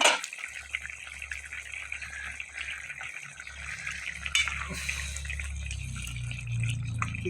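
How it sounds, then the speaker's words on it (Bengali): Water poured into a covered cooking pot of ash gourd curry, with trickling, dripping and bubbling liquid sounds over a low rumble, fairly faint and continuous. "আমি একটু জল দিয়ে দিই"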